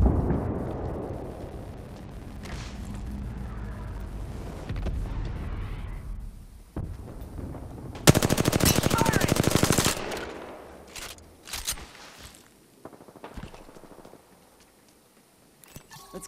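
Gunfire in a military shooter video game, a dense burst of rapid automatic fire lasting a couple of seconds amid rumbling ambient battle noise and scattered single shots, with no talking.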